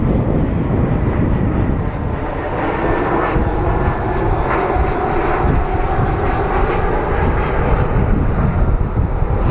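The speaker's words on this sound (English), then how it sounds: "These are such cool planes." An airplane at Phoenix Sky Harbor International Airport roars loud and close, its engine noise steady and broad across the whole stretch, with no voices.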